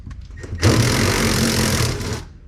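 Power tool, likely an impact driver or ratchet, spinning out 10mm bolts holding the gas pedal of a Toyota RAV4 during a 2AR engine swap; one loud sustained whirring burst of about a second and a half, close and alone.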